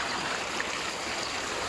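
Floodwater rushing through a street after a hailstorm in Saudi Arabia, running about half a car wheel deep, gives a steady, close, broadband wash of flowing water with no voices.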